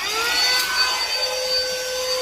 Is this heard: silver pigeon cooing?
no